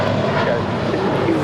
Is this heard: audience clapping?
no